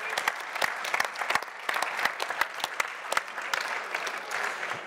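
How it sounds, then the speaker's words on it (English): A crowd at a Java 8 launch party applauds the release, with continuous clapping and sharp individual claps standing out, fairly distant and moderately quiet, with no speech. "let's give a big round of applause to the Java 8 release,"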